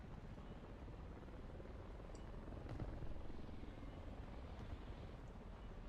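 A helicopter rotor in the War Thunder video game, faint and distant, with a steady low broadband whir rising slightly midway and persisting throughout, no talk.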